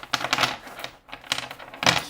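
Three quick bursts of crisp, papery riffling as tarot cards are shuffled, each a short flurry of card edges snapping together, close by with brief pauses between.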